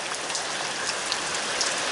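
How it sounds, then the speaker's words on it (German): Rain starts falling again over a rural garden with potato beds, a steady dense patter of drops on surfaces, close and continuous with no other sounds. "fängt es wieder an zu regnen"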